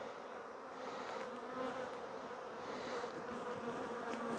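Honeybees in a nuke hive hum steadily in a close, continuous buzzing drone, with no voices.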